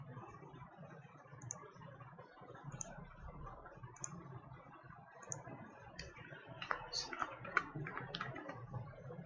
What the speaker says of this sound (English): In this I am typing,